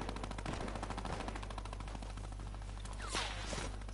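Sniper rifle fire in the video game Fortnite, a dense run of rapid sharp shots over a constant low hum, with a louder burst near the end, fairly close and without voices.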